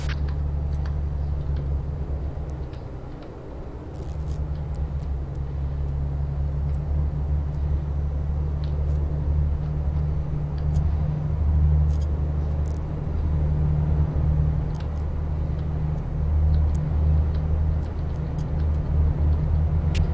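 A truck engine in Euro Truck Simulator 2 hums as a low, steady rumble while the truck cruises on the road, with no talking.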